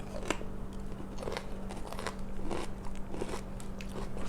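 Crunchy food is bitten and chewed close to the mic, several crisp crunches spaced through a steady low hum with no talking.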